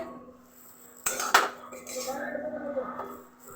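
A metal spatula scrapes and knocks against a wok while thick, sticky lentil filling for dal puri is stirred, giving a run of close clinks and rough scraping strokes.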